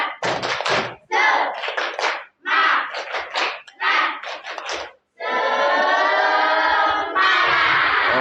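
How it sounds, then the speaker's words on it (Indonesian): Primary classroom students performing the tepuk semangat spirit clap, short rhythmic bursts of group clapping and chanting separated by brief gaps, ending in a longer sustained group shout. "sekarang kita awali dengan tepuk semangat dulu ya. Pertama tepuk semangat."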